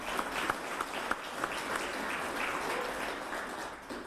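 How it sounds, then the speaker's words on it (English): Audience applause at a State of the Bases address at Peterson Space Force Base, a steady, moderate wash of clapping from a crowd with a few sharper individual claps standing out near the start. "I'll clap."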